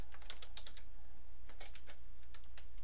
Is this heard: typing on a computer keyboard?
yes